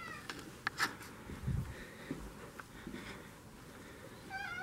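A cat meows faintly a few times in a quiet indoor space. The short calls are spread across a low background hiss.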